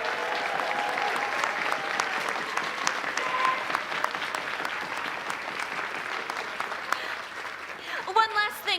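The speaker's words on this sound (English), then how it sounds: "Let's give another round of applause for our board of directors, everyone." Convention audience at a closing ceremony clapping for the board of directors, dense sustained applause from a large crowd, steady for several seconds before a voice comes in near the end.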